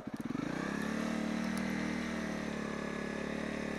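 A Honda CRF250L motorcycle engine rumbles up from a low putter into a steady, throaty drone as the bike rolls along close by during a U-turn.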